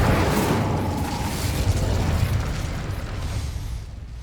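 A fire spell cast in the Hogwarts Legacy video game gives a dense, roaring whoosh of flame that stays steady and loud for several seconds, slowly easing toward the end.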